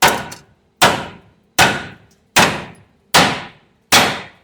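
Six sharp, ringing metallic strikes at a steady, even pace, each decaying quickly, with no talking.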